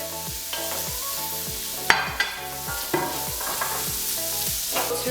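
Mixed peppers and ginger go into a hot frying pan with crushed garlic, setting off a loud sizzle with repeated spatula scrapes and a few sharp clatters; no one speaks over it.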